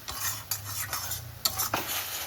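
Soft frying sizzle of spice paste in oil, with repeated scraping and tapping of a spoon stirring in a pan, close by and moderately quiet.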